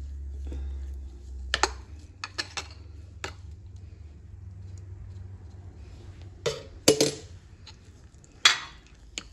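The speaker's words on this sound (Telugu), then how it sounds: "సో ఇది ఈనో కొంచెం వేసి కలిపేస్తాం" A spoon clinks against a bowl while Eno fruit salt is stirred into idli batter, sparse scattered taps and a few louder knocks near the end over a low hum.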